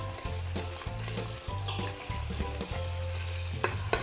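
Garlic, onion and ginger sauté in a pan with a constant crackling sizzle, stirred in bursts that bring scraping and occasional knocks, close and fairly quiet, with no voices.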